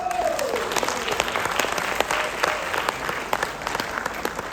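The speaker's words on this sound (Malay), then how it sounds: "Satu tepukan untuk Riway." A large crowd at a business opportunity event for Riway claps continuously and fairly loudly, with a short whistle-like tone sliding down at the very start.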